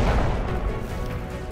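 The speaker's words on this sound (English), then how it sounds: "Oh, that's gonna be big explosion." A big in-game explosion in Destiny 2 roars as a loud, dense blast of rumbling noise that fills the whole short moment and barely fades before it cuts off.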